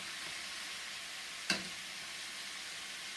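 Cajun chicken pieces frying in a pan make a faint, even sizzle, broken once by a sharp crackle as a piece is flipped, no talk.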